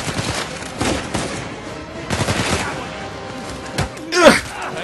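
Machine gun fire in Uncharted 4 crackles in several short bursts separated by pauses, moderately loud amid game ambience, ending with a sharper impact near the close.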